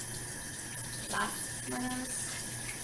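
Hands being washed under a running tap, a steady broadband rush of water with a brief splashy burst midway, close and fairly even, with some faint speech in the background.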